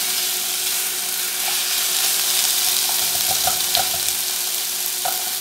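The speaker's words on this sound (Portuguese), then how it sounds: "A gente vai refogar até reduzir a cebola, até ela ficar transparente." Steady sizzling of onion sautéing in a pan, with occasional soft scrapes of stirring, continuous and close.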